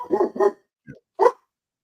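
A dog barks three times close by: two quick barks back to back, a pause with a short low yip, then one more bark, with no talk over it.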